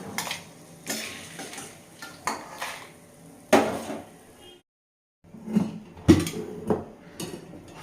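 Coriander seeds, cumin and red chillies dry-roasting in a pan give off bursts of scraping and clattering as they are stirred, with a short silent gap before the stirring resumes, close and moderately loud.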